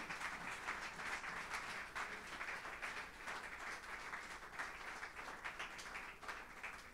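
A church congregation at a Sunday service applauds with sustained, dense clapping that continues evenly throughout, sounding distant and fairly faint.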